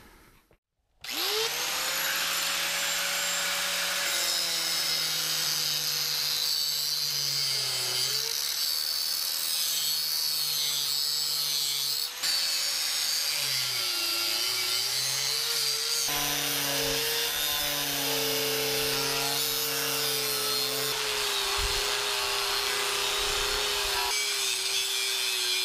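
Power tool cutting metal pieces for press blocks for a Minneapolis-Moline 445 prototype tractor, a loud steady whining cut running nearly the whole time with pitch dips as the blade loads, no talking.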